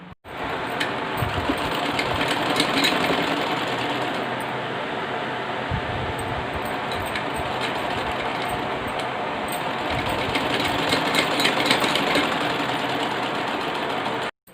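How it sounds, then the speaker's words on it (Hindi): A sewing machine stitches the lining of a homemade bag, a dense steady mechanical whir running almost without pause for over fourteen seconds, close and loud, stopping abruptly at the end. "तो चलिए अब हम स्टिचिंग शुरू करते हैं।"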